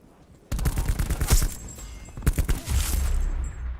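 Sniper gunfire in the Call of Duty: Black Ops 4 video game, a sudden burst of sharp cracks that opens with a loud shot and is followed by more reports and rumbling impacts over several seconds.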